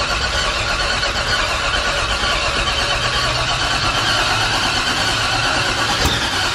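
A turbocharged LS truck engine fitted in a Corvette cranks and catches, producing a loud continuous rough roar with a sharp click late on and no talking.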